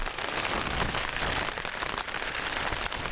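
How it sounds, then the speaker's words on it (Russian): Steady rain drums on a fishing boat out on the water, a dense, continuous near hiss and patter with no pauses and no voices. "О, друзья, дождь идет на нас, блин."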